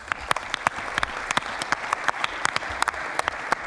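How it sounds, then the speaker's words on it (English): An audience applauds at a Boys and Girls Clubs of Metro Phoenix youth awards gala, a steady sustained wash of many hands clapping with sharp individual claps standing out throughout. "The passion and caring generated by Boys and Girls Clubs of Metro Phoenix are to be applauded, along with our honoree, Bob Beauvais."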